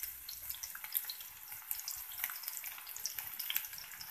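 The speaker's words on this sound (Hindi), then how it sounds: "अंदर हमने डाल दी है एक प्याज, और अब प्याज को हमने लाइट पिंक कलर देना है।" Chopped onion sizzles steadily in hot oil in a pan, the first step of a tinda (Indian round gourd) curry, a continuous crackling hiss with scattered small pops and no talk.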